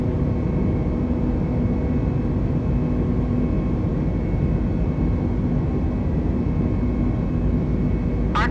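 An Air New Zealand Airbus A320neo climbs after takeoff, with a steady, loud cabin engine roar and rumble throughout and a brief higher-pitched whine near the end.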